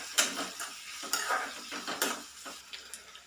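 Ginger-garlic paste being stirred into onions in a pan, a series of scraping clinks of the spoon against the metal over a faint sizzle, close and fairly quiet.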